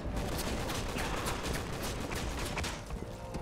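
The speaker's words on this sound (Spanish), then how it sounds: "Lo bueno es que los NPC ya agarran a balazos a estos pelados." Dense, rapid video game gunfire from Resident Evil 6 rattles without pause, overlapping shots and bursts forming a constant loud barrage throughout.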